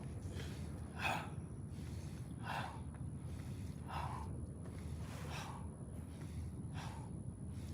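Slow rhythmic breaths during a group yoga session, about six audible inhale-exhale swells spaced roughly a second apart as the arms swing, soft and close over a steady room hiss with no talking.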